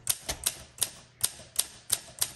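A 1957 Olympia SM3 manual typewriter clacks through a run of about nine crisp, evenly spaced keystrokes, close and alone with no voices.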